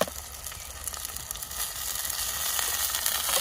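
Onions frying in a pan with ginger garlic paste and chillies, a steady close sizzle and crackle that grows slightly louder, with no talking.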